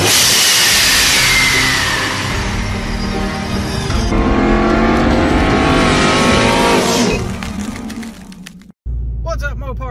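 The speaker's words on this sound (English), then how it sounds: "So we are on the way home. We're on the highway. We're kind of sitting here in traffic." A car rolls along a highway in slow traffic, with a steady loud engine and road rumble throughout, shifting in tone partway through, then a brief cut near the end.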